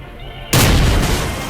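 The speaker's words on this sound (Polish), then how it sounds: "W ogóle dziwnie ten czołg strzela." A tank cannon fires in S.T.A.L.K.E.R.: Clear Sky, one sudden, loud, deep boom that hits after a quiet start and rolls off slowly into a long rumbling tail.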